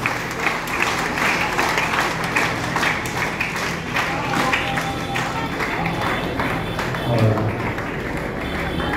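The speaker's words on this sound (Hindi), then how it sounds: "तालियां बजाकर के अभिनंदन।" Audience applause honoring a guest at a Hindi-language ceremony, with a crowd clapping steadily for several seconds while voices murmur and talk underneath.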